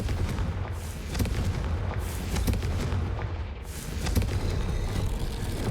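Confringo blasting spell bursting in Hogwarts Legacy, a loud, continuous roar of rumbling explosions and crackling impacts with repeated sharp hits, dense low-end boom throughout, no talking.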